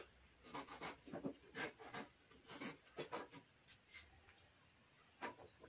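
A handsaw cuts wood by hand for a window frame, shaping a joint. Close, rhythmic rasping strokes repeat about a dozen times in an uneven back-and-forth pattern, with no talking.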